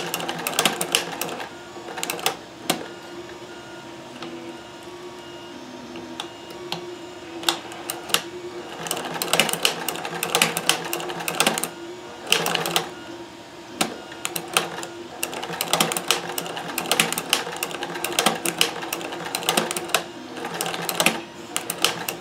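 A Kenmore 158 sewing machine fitted with a Singer hemstitching attachment runs steadily, its rapid, even mechanical stitching chatter close and continuous with a few brief pauses and no talk.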